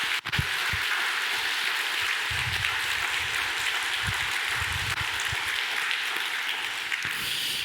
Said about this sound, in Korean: 정말 우리 힘차게 박수 한번 할까요?